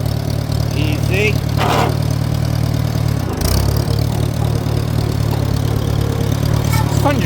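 An old Farmall 140 tractor engine running steadily in road gear while driving, a loud, even low-pitched drone close by that shifts slightly partway through, with people talking over it.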